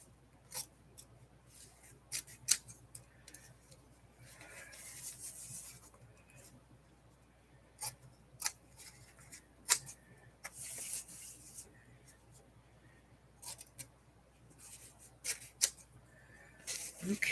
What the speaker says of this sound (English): So now I'm going to clip the corners here. My fabric scissors.